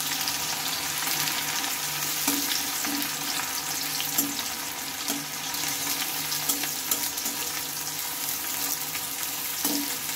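Thinly sliced onion fries in a pan, a continuous crackling sizzle close up with occasional stirring scrapes and taps, and no one speaking.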